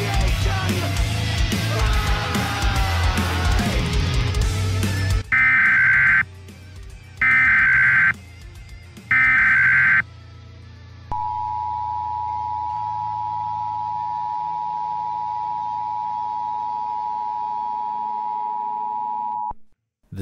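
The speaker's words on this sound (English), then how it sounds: "the EAS, or the Emergency Alert System, was built to warn us of either ongoing situations or emergencies that were going to occur." Emergency Alert System broadcast alert: after a loud noisy passage come three short, identical digital bursts, then a single steady electronic tone that holds for about eight seconds before cutting off abruptly.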